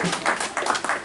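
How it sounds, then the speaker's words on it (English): A church congregation claps briskly in rapid, dense, irregular bursts of hand claps, a short loud flurry close by. "Clap offering unto the Lord as he's marching forward"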